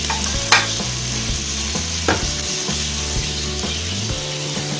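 Chopped onions frying in oil in a pot for mutton curry, a steady close sizzle with scraping stirs and clinks of a spoon against the pan, alongside a low tonal hum.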